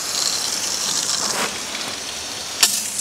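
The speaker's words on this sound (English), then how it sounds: "So I'm gonna run some water and just listen." A steady hiss of running water from a tap, even and continuous, with a brief knock near the end.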